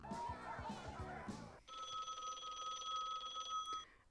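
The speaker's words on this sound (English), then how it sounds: "he's calling her phone line" A telephone rings in the 1984 movie Sixteen Candles, its steady electronic trill cutting in after a stretch of music and voices and sounding clearly in the foreground for over two seconds.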